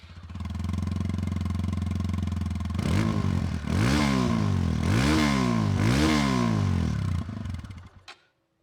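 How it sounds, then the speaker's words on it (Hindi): A TVS Apache RTR 160 2V motorcycle idling close by with a steady thrum, then revved in three quick throttle blips that rise and fall, dropping back to idle before the engine cuts off; no talking. "तो एक बार एग्जॉस्ट नोट सुनाते हैं।"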